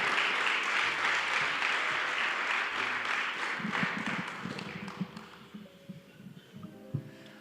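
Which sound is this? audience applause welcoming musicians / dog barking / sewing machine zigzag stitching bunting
audience applause welcoming musicians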